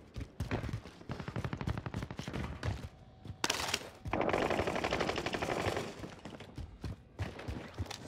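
Video-game gunfire from a QBZ assault rifle, heard in bursts of rapid shots with thumps in between, fairly quiet overall, and one dense sustained stretch of fire toward the middle of the clip.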